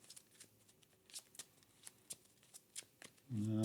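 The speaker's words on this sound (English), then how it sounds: "So shuffle, shuffle, shuffle" Crisp, quiet riffles of a Marvel Champions card deck being shuffled, several short bursts in quick succession, followed by a sudden low thump at the end.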